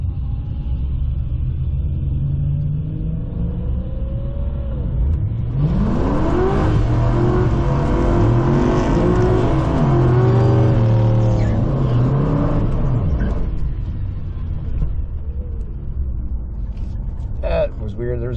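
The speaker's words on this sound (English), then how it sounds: "There's a weird clunk in the rear end during that burnout." A drag racing car on radials and skinny tires on stock wheels does a burnout at a dragstrip street night, with a rear-end clunk. The engine roars up loudly for several seconds over an idling rumble, then drops back, with voices talking nearby.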